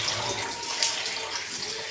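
Running water splashes steadily as pieces of catla fish are washed under a tap in a home kitchen, a close, continuous hiss of flowing water with no voices.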